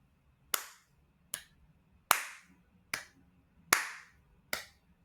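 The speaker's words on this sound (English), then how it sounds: "I'm just going to clap these. So the first example in 2/4." Six sharp, close hand claps sound alone in a steady, evenly spaced pulse, each a crisp crack with a quick decay, keeping beats in 2/4 time.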